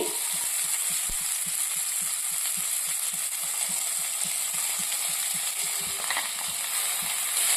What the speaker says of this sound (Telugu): ఈ ఆనియన్స్ నీట్గా ఫ్రై అవ్వాలి